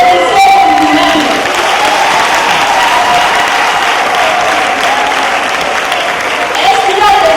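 Loud, steady audience applause fills a hall, a dense continuous wash of clapping with some crowd noise that holds at the same level for the whole stretch.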